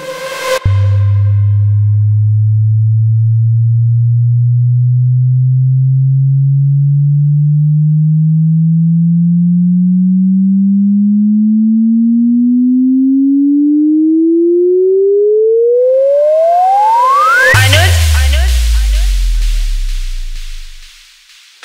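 A loud, low kick-frequency test tone from a high-gain DJ sound check throbs gently, then sweeps steadily upward into a high whistle before ending in a sudden burst of harsh noise and deep bass.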